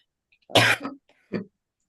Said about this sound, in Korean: 기침이 여러 나네요